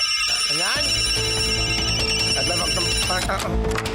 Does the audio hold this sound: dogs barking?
no